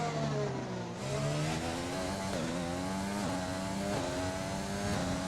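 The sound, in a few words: F1 car accelerating out of the pits in the F1 2020 video game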